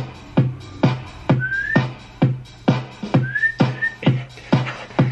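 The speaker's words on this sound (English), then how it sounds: "just whistle to this. Go ahead." A person whistles a short tune in a room, the notes separated by sharp percussive hits from a backing beat, with the whistled phrases rising and sliding between the beats.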